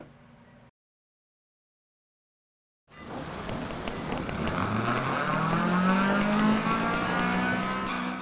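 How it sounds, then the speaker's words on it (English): A classic Mini rallycross car in the DiRT Rally video game at Hell, Norway, rain falling: after brief silence the engine drones steadily with a rising rev, joined by a rough road and rain hiss. "So here we are at Hell Norway, driving the classic rallycross car, which looks like a Mini to me."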